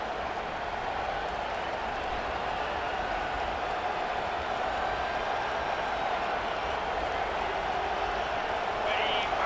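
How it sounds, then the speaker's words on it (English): Loud, constant roar of a packed stadium crowd in EA Sports College Football 25, a dense broadband wall of cheering and noise that holds steady without break. "listen to this crowd noise. This stadium is vibrating."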